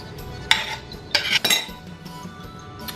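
Clinks of a spoon against a container as thick onion jam (Jaew Pukboua onion dip) is scooped in, a few short metallic taps clustered together, close and fairly quiet against a soft room background.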